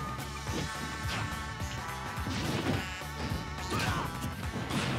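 Forward smash attacks in a Super Smash Bros. for Wii U tournament match, repeated heavy whacks and crashes landing over busy game music and effects, with no talk over them.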